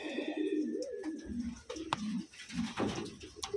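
Soft pigeon cooing and low bird calls from rare-colour Taiwan pigeons, fairly close, repeating over a faint patter of movement and background noise.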